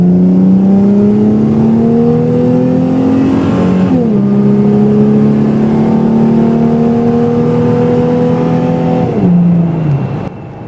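A Ford Mustang drives along a dirt back road, its engine droning loud and close with steady pitch that dips twice at gear changes, tyres and body rumbling underneath, with no talking.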